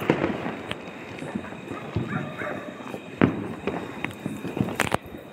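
Diwali fireworks on a rooftop: sharp firecracker bangs and rocket pops crackle irregularly, one loud close burst mid-way and more near the end, over a busy background of distant explosions.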